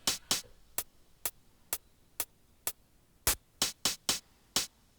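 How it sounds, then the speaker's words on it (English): Eurorack synth hi-hat pitched up and bit-crushed, a run of sharp, bright, gritty ticks in an irregular pattern, some clustered close together, fairly faint and alone with no talking. "So you can hear the hi-hat, that's just being pitched up, but also bit crushed"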